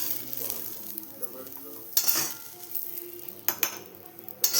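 Sesame seeds, coriander seeds, ginger, garlic, tomato and onion are sautéed in a pan, giving a continuous close sizzle. Sharp scrapes and clinks of a stirring utensil against the pan break through repeatedly.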